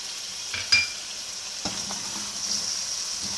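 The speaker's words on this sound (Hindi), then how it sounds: "3 से 4 मिनट नमक डाल के फ्राई करेंगे" Mutton shinwari karahi fries in a pan with salted meat pieces, giving a steady close sizzle with a few sharp clattering stirs near the start and soft scraping later. No voices.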